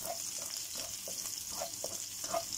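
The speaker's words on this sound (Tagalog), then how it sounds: "Dito naman sa kabilang kawali mga friendship, maggisa tayo ng puting ampalaya." White bitter gourd sautéing in a pan, a soft continuous sizzle with faint stirring scrapes, fairly quiet and steady throughout.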